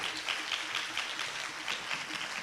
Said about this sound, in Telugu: బిగ్గరగా చప్పట్లు కొట్టాలి.